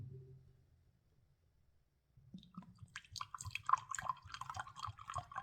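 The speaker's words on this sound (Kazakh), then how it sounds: "Екі стаканға құйып қояйық." Clean drinking water poured into two glasses, close by; a quiet pause gives way at about two seconds to an irregular trickling and splashing pour that continues to the end, with no talk.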